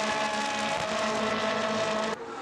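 Ferrari Challenge race cars on a circuit, a loud sustained high-revving engine whine with a steady tone, close and continuous, dropping off abruptly near the end.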